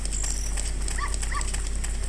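A small puppy in The Legend of Zelda: Ocarina of Time gives two short, high yips about half a second apart, over a steady background hum of game music.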